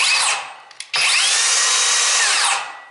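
A Kobalt 24-volt cordless dual-bevel sliding miter saw motor whirs up loudly, briefly cuts out, then spins up again to a steady high whine before winding down.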